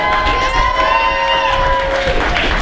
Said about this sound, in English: let's give her a big round of applause first of all